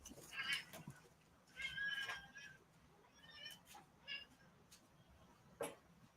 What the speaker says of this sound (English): There's a lot of meowing.